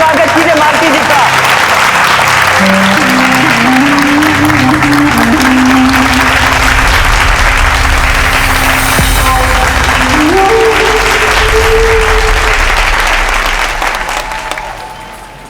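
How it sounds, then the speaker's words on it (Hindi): Loud, sustained applause from a stage audience welcoming an actress who plays Rani Champavati, dense clapping layered with music and voices, steady throughout and fading slightly at the close. "जोरदार तालियों से स्वागत कीजिए मालती जी का।"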